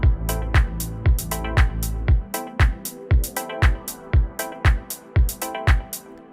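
Simple deep house track with an added crash cymbal: a steady four-on-the-floor kick thumps under bright, hissing cymbal hits and synth chords in a tight repeating groove, loud and without any voice.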